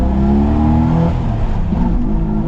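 Close, loud engine roar from a Jeep Wrangler TJ Rubicon inline-six as it accelerates hard, a steady dense growl with no voices over it.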